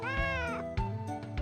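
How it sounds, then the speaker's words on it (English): A cat in the video game Wild Arms gives a long, clear, tonal meow, followed by a few shorter meows, loud and close, with no speech. "That's a cat?"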